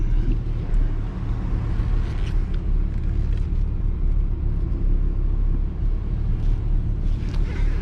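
A truck backing up with a 4-car stacker trailer gives a steady, close, low engine rumble that hardly changes. No voices are heard.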